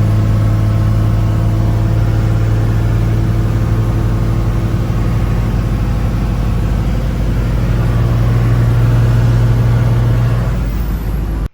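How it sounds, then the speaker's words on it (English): Tow truck engine idling steadily, then driving off with a droning mid-range rumble that holds loud and close throughout, a brief rise near the end. "I'll fire up the tow truck and head that way."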